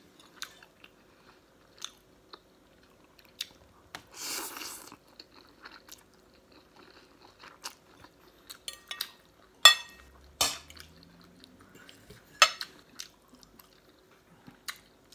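Someone eats spaghetti up close, with quiet chewing and scattered clicks and clinks of cutlery against a dish, in a soft, irregular rhythm with short pauses and no talking.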